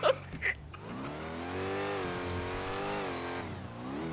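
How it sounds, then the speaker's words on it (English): Loud car engine in NoPixel GTA V roleplay, a couple of short bursts at the start, then a steady revving drone that climbs slightly and holds, close and fairly loud, with no talk. "this car is so fucking loud"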